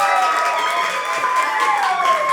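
Comedy club audience at a stand-up show cheering and clapping: a continuous crowd roar of mixed voices and applause, loud and sustained throughout.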